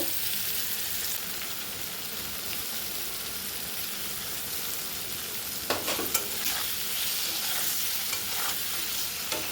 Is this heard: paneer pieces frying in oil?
yes